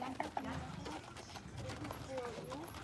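Horse hooves clip-clop at a ranch, a few sharp hoof strikes standing out early amid steady footfalls, heard close under continuous conversation.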